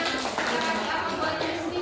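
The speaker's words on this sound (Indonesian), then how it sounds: "Kita beri tepuk tangan" Students clapping in a classroom, a dense continuous patter of many hands close by, steady throughout with no talking.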